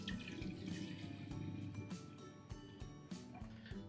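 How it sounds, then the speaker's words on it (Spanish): Water runs into a pot of potatoes for boiling in a home kitchen, a soft continuous splashing and trickling with scattered drips and clinks, faint and close, without talking over it. "Hay que ponerle un tantito de agua"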